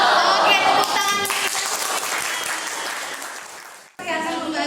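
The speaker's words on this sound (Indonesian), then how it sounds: "Oke, tepuk tangan." Students at SMA Negeri 16 Bekasi break into loud classroom applause, a dense burst of many hands clapping that fades slightly, cuts off briefly, then resumes strongly.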